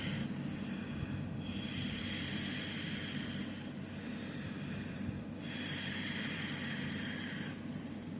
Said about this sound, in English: So that's a light snoring sound in the back of the throat.